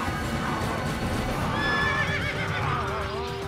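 A horse in the Assassin's Creed game gives a wavering whinny over steady clip-clopping hooves and a low rumble of background noise.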